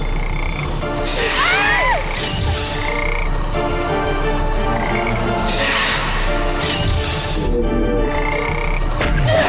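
Frogs croaking loudly and continuously in a dense chorus close by, with a brief crashing sound partway through and no talk.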